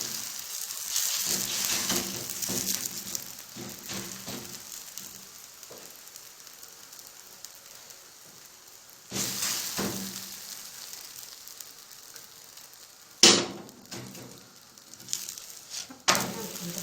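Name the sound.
onion flatbread frying in oil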